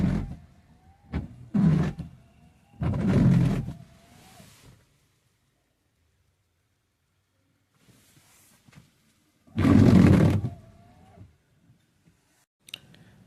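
A worn old wiper blade sweeps across a Tata Nexon's windshield in several separate passes, each a short rubbing, juddering swish with squeaky tones, separated by long quiet gaps.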